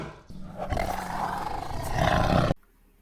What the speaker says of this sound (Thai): เสือ